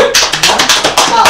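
Quick rhythmic hand claps, about eight sharp close strikes in a steady tempo, loud and close, from a charity event gathering supplies for children.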